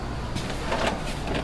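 A small drawer with a galvanized steel body and wooden face slides open in an old hardware store, a steady scraping rumble lasting a second and a half with no talking.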